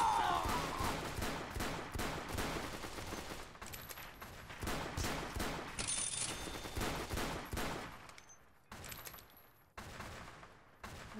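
Dragon's Breath incendiary rounds fire in a heavily modded Fallout game: rapid volleys of gunshots in bursts, loud and punchy, with brief pauses and one sharp gap between salvos.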